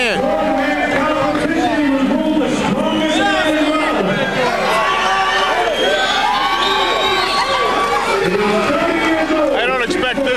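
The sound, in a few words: boxing crowd cheering for fighter Matt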